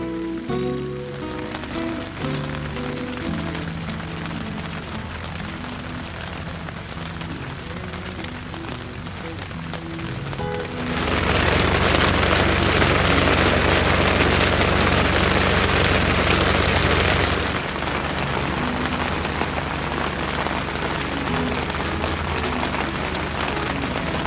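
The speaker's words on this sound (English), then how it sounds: "as quickly as the thunder and rain showers come in on the mountain, they exit out" Afternoon rain shower on Mount Elbrus, a steady wash of rain on surfaces that swells much louder midway for several seconds, then eases back to a constant patter, with a low rumble beneath.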